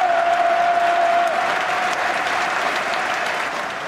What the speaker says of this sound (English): crowds across the country clapped